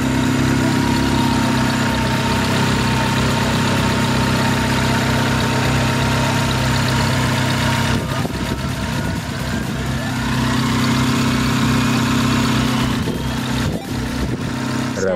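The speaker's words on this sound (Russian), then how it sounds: "Работа двигателя на холостых оборотах." A Daewoo Nexia 1.5 L 8-valve engine idling nearby, a steady low rumble with an even throb, with some rustling and handling noise later on.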